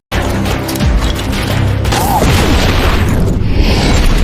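A huge, loud explosion rolls on as the Djinn blow themselves up in the 2010 film Clash of the Titans, a dense roaring blast with crashing debris and rumbling that fills the whole span.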